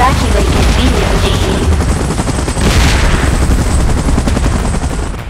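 A helicopter in the Godzilla vs Kong video game roars loudly throughout, a dense rotor chop mixed with bursts of what sound like gunfire and heavy booms, with a voice faintly present beneath.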